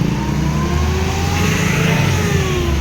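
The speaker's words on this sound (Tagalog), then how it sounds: "Grabe yung traffic." Car engines rev and accelerate in heavy traffic, a loud steady mid-pitched drone with rising engine tones, close by and continuous without speech.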